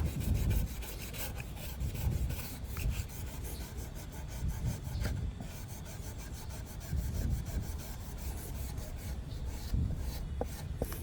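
HOLEX rust eraser rubbed back and forth over a rusty outdoor knife blade, a continuous close rasping scrub in repeated strokes, steady and fairly quiet with no talk.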